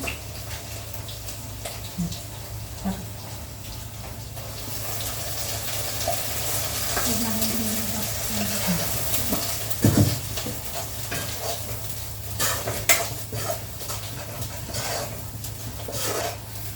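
Onions fry gently in a pan with a steady low sizzle, joined by occasional stirring scrapes and clinks of cookware, close by, with no clear talk.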